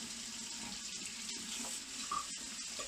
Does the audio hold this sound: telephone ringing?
no